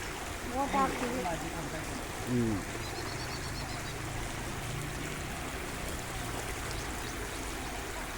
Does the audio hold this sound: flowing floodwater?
yes